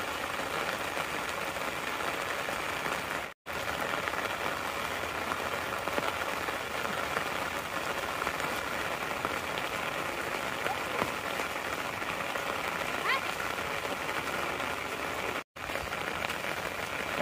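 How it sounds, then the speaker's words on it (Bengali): Heavy rain falls steadily on a pond bank as a broad, constant hiss. It continues unbroken except for two brief dropouts. "অনেক বৃষ্টি আজকে।"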